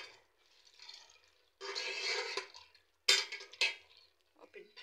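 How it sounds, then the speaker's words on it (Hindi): Food is being stirred in a cooking pot, giving a few short bursts of scraping and clinking. Quiet gaps separate the bursts, and a couple of sharper knocks land near the end. "ये मैंने डाल दिया, इसे मिक्स कर देते हैं।"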